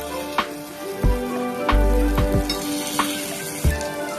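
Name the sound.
flipping protein paniyaram frying in a pan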